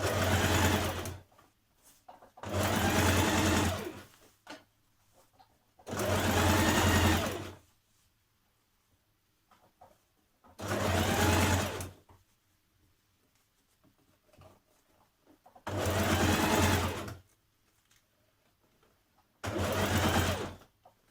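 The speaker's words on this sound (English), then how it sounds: "Change to your regular foot and stitch along the rest of the way" A sewing machine stitches along an evening-wear collar in six steady bursts of rapid mechanical whirring, each a second or two long, separated by quiet pauses.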